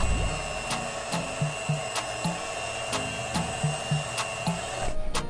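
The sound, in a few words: electric mixer beating jackfruit cake batter with caramelized sugar at low speed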